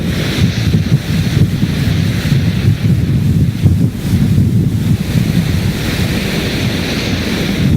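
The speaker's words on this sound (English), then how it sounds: "We're looking at a very angry sea. I bet you we're talking about 20-foot waves." Rough Drake Passage sea and heavy wind heard from a ship's bridge: a continuous low roar of crashing waves and buffeting wind noise on the microphone, loud and unbroken.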